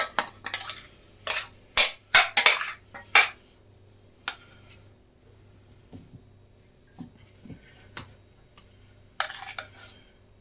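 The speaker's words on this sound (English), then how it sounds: "I'm just going to spoon that into the pastry base, squash it down." A spoon scrapes and clanks as mashed corned beef hash is pressed into a pastry base, with bursts of clustered metallic scraping and knocks, then quieter gaps and one more burst near the end.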